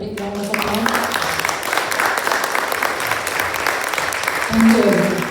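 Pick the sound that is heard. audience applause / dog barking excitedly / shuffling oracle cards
audience applause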